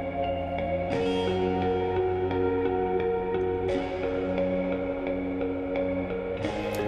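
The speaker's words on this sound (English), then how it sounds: "And the arpeggio has a lot of reverb on it." A sustained synth arpeggio cycles steadily, drenched in heavy reverb that smears each note into a washy, ethereal tail.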